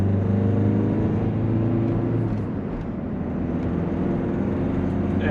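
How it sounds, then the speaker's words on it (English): A Vauxhall Zafira 1.7 CDTI diesel car with an EGR fault accelerates, its steady, fairly loud engine drone rising and dipping slightly throughout, heard up close without talk. "we'll try accelerating, and we'll see whether the car does it or not."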